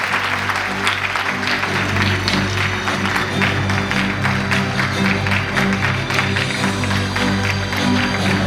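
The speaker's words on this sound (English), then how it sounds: "Let's give a big round of applause for the PYP class representatives." Sustained audience applause fills a school investiture ceremony hall, a dense steady wash of many hands clapping at an even level throughout, with faint crowd murmur beneath.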